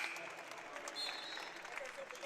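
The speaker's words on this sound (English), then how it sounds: "Marley Anderson gets a round of applause from the home faithful as she's fouled out for the game" Home crowd at a women's college basketball game applauding a player who has fouled out, a soft, steady clapping under a commentator's voice.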